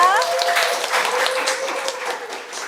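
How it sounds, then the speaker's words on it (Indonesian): A classroom of students clapping for a classmate, a short burst of applause with voices mixed in, fading slightly toward the end. "beri tepuk tangan dulu untuk Ica"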